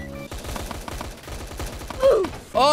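Rapid gunfire in a Roblox SCP video game, a fast regular stream of shots lasting over two seconds, with game sound effects and a voice breaking in near the end.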